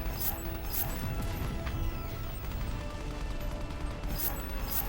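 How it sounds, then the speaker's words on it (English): Explosions and crashing blasts in the video game Left Alive, a dense run of cracks, bangs and mechanical clatter over a steady game soundscape, several sharp hits standing out, no voices. "Look at those PS2 ass explosions."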